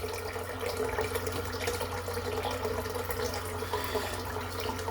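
Tap water runs steadily into a bathroom sink, a continuous, even rush of water close by with no pauses and no one speaking.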